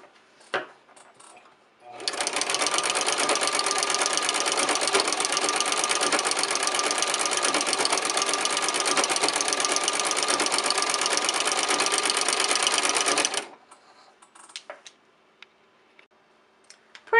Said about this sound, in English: So the sewing machine made 12 stitches, then a ruffle, 12 stitches, then a ruffle